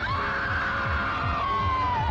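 Victoria, a young woman in the Doctor Who serial Fury from the Deep, lets out one loud, sustained high-pitched scream that slowly falls in pitch before cutting off abruptly.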